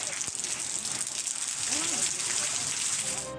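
Heavy monsoon downpour in Pakistan, a dense continuous roar of rain pounding surfaces with a gushing, hissing wash, loud and steady throughout with no voices.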